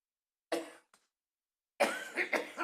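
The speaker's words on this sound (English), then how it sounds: "I've had this weird dry cough that would just come and then disappear" Dry coughs in a quiet room: one sharp cough, a brief faint catch, then after a silent pause a cluster of two or three harsher coughs close to the listener.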